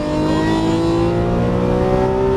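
Lamborghini Aventador LP700-4 at full throttle out of a corner, a loud, steady engine roar heard from inside with its pitch rising smoothly throughout.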